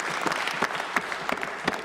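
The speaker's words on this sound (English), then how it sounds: "A lively applause for the Minister of Finance as he tabled Ontario's largest ever budget" Members of the Ontario legislature applaud the Minister of Finance as the 2023 budget is tabled, a dense, steady roar of clapping from a large room, moderately loud with no talk over it.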